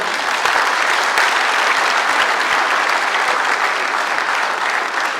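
A large audience at a public dialogue event in Ghana breaks into loud, sustained applause, a dense steady wash of clapping that holds at an even level for the whole stretch.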